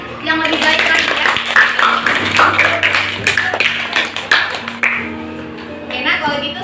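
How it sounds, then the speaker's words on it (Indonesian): Students in a classroom clap for a presenting group, with uneven, fairly close hand claps and taps mixed with talking and background voices, rising and thinning over several seconds. "Sekali kasih tepuk tangan yang lebih baik lagi ya."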